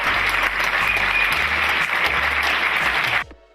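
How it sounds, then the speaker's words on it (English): A room of finance professionals bursts into steady, loud applause to welcome a CPA chairman on stage, the clapping dense and even before cutting off abruptly near the end. "A round of applause, please."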